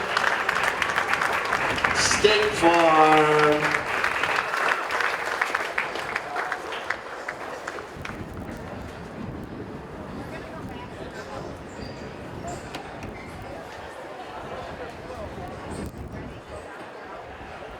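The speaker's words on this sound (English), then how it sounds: "Let's give a round of applause." Crowd applause for the winning polo team at a polo club tournament award ceremony, loud over the first seven seconds with an announcer talking over it, then fading to a quieter outdoor murmur.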